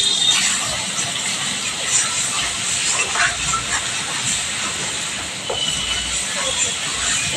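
Onions dropped into hot oil for a mutton curry, giving a steady broad sizzling hiss that holds throughout at moderate loudness, with faint scattered background sounds.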